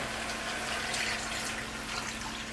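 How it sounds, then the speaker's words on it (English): Two cups of hot water pour into a pot of frying chicken for Jamaican brown stew, a steady close gush and hiss of liquid with no talking. "So now we're going to add 2 cups of hot water."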